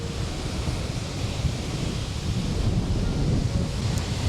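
Steady roar of strong wind mixed with crashing sea surf, loud and continuous with no voices.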